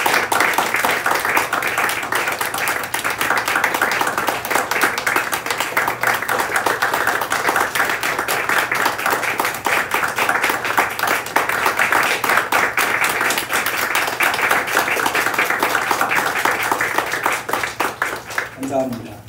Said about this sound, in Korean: 한 번 더 뜨겁게 축하의 박수를 하겠습니다.